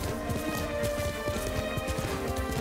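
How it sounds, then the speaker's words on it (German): Horse hooves clip-clop in a steady galloping rhythm while riding in the video game Ghost of Tsushima, loud and continuous throughout, with game music underneath. "Jetzt reiten wir mal los."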